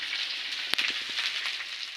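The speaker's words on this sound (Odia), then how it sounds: "ପିଆଜ ନାଲି ପଡ଼ିଲା ପର୍ଯ୍ୟନ୍ତ ତାକୁ ଘାଣ୍ଟନ୍ତୁ" Onions sizzle steadily in a hot pan on low heat for a mushroom dish, a continuous close hiss broken by a sharp clack and a few soft scrapes of stirring.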